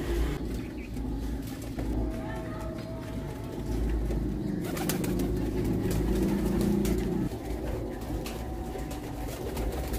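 Pure white pigeons with black tails coo softly in a low, repeated murmur, close by, with some background hiss and a passing rustle.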